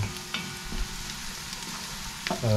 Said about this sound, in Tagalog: Para sumabay ito sa pag-tosta nitong ating luya. Mag-golden brown pa siya.